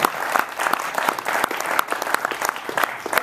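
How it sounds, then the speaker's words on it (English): Audience applause at the close of a cloud business strategy conference session, a dense steady wash of clapping that runs the whole time at moderate loudness. "Well, take an applause."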